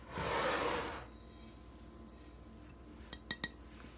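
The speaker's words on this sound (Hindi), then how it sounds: "तो चलें इसको डाल के हम मिक्स करते हैं" Fenugreek seeds are stirred into a potato filling in a bowl for aloo paratha: a soft rubbing swirl at first, then a few light clinks of a spoon against the bowl.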